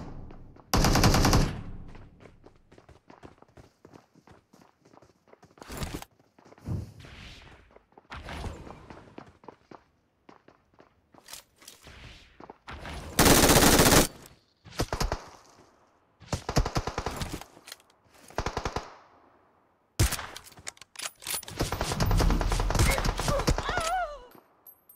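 Bursts of automatic gunfire in the battle royale game PUBG Mobile, loud repeated volleys in several separate clusters with short gaps, plus softer thuds and footsteps between them; a voice speaks briefly.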